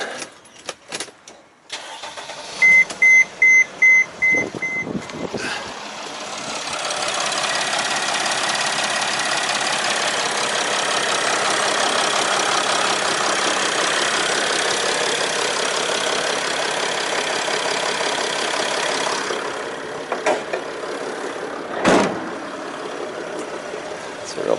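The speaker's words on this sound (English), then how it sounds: "So I'll start the engine up." A Mercedes Sprinter van engine cranks over with several short beeps and clicks, catches, and settles into a steady, loud idle for about fifteen seconds before dropping away, with some handling noise near the end.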